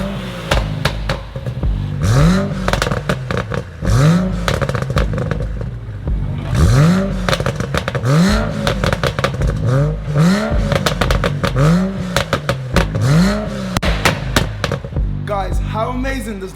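A tuned BMW M135i revs repeatedly close by, each sharp throttle blip rising and falling back to a crackling idle, with pops and crackles between the revs.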